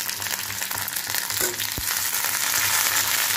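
Chopped garlic fries in hot oil in a pan for chana masala, a continuous close sizzle with faint stirring scrapes and no talk.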